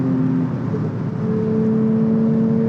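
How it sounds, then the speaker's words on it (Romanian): Porsche 911 GT3 Touring engine and intake, a steady loud droning whir heard from inside the car with the motor behind, holding an even tone throughout. "Mult zgomot de admisie, motorul auzi în spatele tău"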